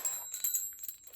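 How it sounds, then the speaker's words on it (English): Wind chimes jangle with bright, thin metallic tones that overlap and ring out softly in a brief, delicate cluster. "hang these beautiful wind chimes near an open window and fall asleep listening to their music dance across a nighttime breeze"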